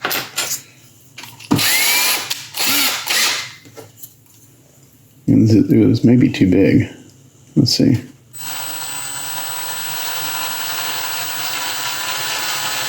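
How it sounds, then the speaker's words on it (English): Power drill fitted with a new 1/4 inch bit cutting into a 1/6 scale Predator sculpture, heard as short bursts of whirring drilling between spoken remarks, followed by a steady whine near the end. "now I'm going to switch to a 1/4 inch drill bit"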